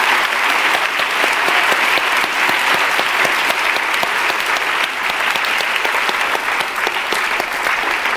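A church congregation claps and applauds steadily at a service in Singapore, a dense, loud, continuous wash of many hands clapping with no voices rising above it.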